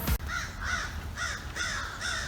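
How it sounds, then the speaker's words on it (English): Crows caw along an outdoor nature trail, giving a series of about five harsh, evenly spaced calls at moderate distance. A faint background hum runs underneath, and nobody speaks. "Those crows have been following me for quite some time now."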